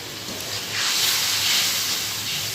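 Spice paste mixed with water hits hot oil in a kadai, a loud broadband sizzle and hiss that swells after a moment and holds steady, close by with no talking.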